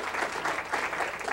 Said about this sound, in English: I think your demonstration needs a round of applause